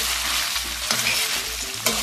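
Meat kavurma fries in its own fat, its steady close sizzle broken by a few spoon scrapes and light knocks against the pan.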